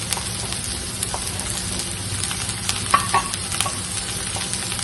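Shallots, cabbage and beans stir-frying in a pan for Kerala-style upma, a loud close sizzle with a scrape or two of the spoon, crackling steadily throughout with no talking.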